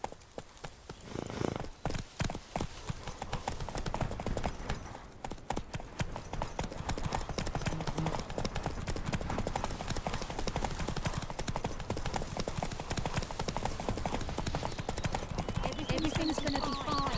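Hooves of a horse in The Witcher 3 pound a road in a fast, steady gallop, starting after a brief pause and then running continuously and loud, with voices talking at times.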